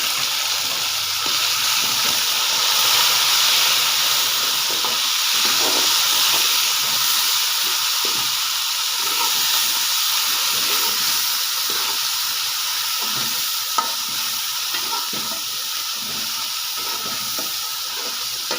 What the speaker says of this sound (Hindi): ये मेरे लाल टमाटर जा रहे हैं